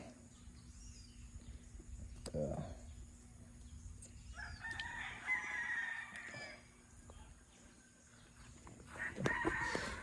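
A rooster on a quiet countryside farm crows in two drawn-out calls, one mid-clip and a shorter one near the end, moderately distant and fairly faint over soft outdoor ambience.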